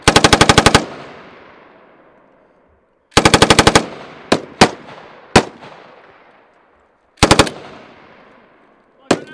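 Machine gun fire at a US Army military exercise with armored vehicles: three loud sustained bursts with several single sharp shots between, each echoing and decaying across open ground.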